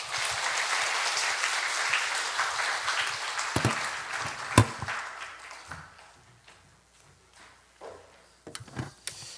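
A church congregation at a Friday evangelism gathering applauds in a full burst that thins out partway through, leaving scattered single claps and small knocks near the end.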